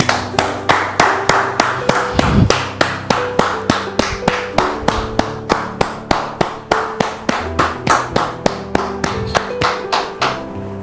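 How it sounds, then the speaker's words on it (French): An audience claps in a steady, even rhythm to welcome a pastor at a church gathering. Sharp hand claps repeat many times in a row over sustained background tones. "le pasteur Salomon, que je voudrais vous demander de recevoir maintenant sous vos applaudissements."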